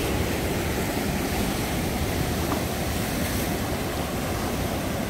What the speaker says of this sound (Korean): 그렇게 센 파도는 아직 안 오는 것 같아요.